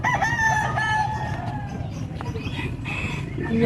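A rooster crows at a bird and pigeon market in Pampang, Angeles City, with long drawn-out calls standing out over steady crowd and market noise.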